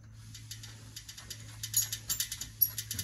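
A ratchet clicks rapidly as a nut is tightened on a motorcycle EXUP cable delete plate, a close run of small metallic ticks speeding up and growing louder toward the end.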